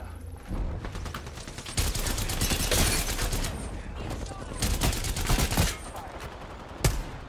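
Gunfire in an Apex Legends ranked match plays as loud, rapid bursts of automatic shots separated by short pauses, with a voice talking over the shooting.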